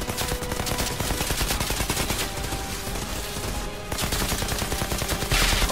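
Gunfire in the video game Outriders: dense, continuous bursts of shots with rapid rhythmic crackle, loud and sustained throughout, with a brief dip before resuming at full intensity.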